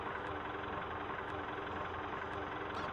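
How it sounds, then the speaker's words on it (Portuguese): Tractor engine idling in Farming Simulator 17, a steady low rumble with faint intermittent ticking crackles running throughout, no voices over it. "Galera, o ronco do trator tá dando meio que uns estralinhos."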